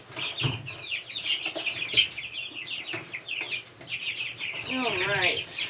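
Backyard chickens clucking and squawking close by during chore time, a busy run of overlapping calls with a drawn-out vocal call near the end, while a person moves around quietly.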